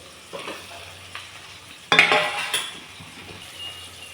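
Onion and tomato sautéing in hot oil in a pan, a soft sizzle broken by scraping stirs and a sharper clatter of utensil against the pot near the middle, with no voices.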